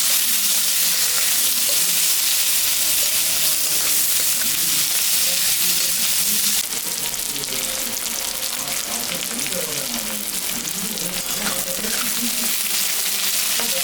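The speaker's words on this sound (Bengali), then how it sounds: "পেঁয়াজটা হালকা ভাজা হয়ে গেছে" Chopped onion fries in oil with dried red chillies, cumin, cinnamon and cardamom, making a continuous strong sizzle with stirring scrapes and a slight drop in intensity partway through.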